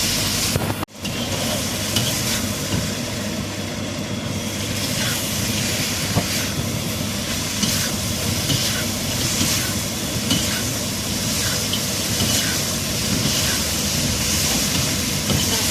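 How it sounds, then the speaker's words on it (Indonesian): Garlic chicken sizzles in a frying pan while being stirred, with a constant loud hiss broken by regular scraping strokes of the utensil, close up. "kita cemplungkan semua dan kita aduk-aduk sampai merata"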